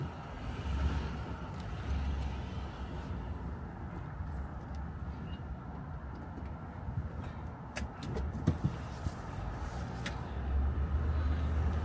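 A Toyota Land Cruiser 100 Series on a test drive after a wheel alignment, with steady low engine and road rumble from inside the cabin, a few faint clicks and rattles partway through, and no talk.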